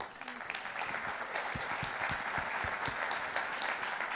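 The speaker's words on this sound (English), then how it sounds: "let's start by giving her a big round of applause" An audience at a blockchain conference in Chile applauds an interview guest for four seconds, a steady wash of dense clapping with a few louder claps up close and faint voices mixed in.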